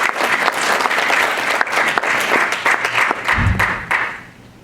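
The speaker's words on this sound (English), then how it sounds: "But we still should give her a round of applause." An audience applauds at a Black History Month celebration, a full round of dense clapping that holds steady for several seconds and then fades out near the end.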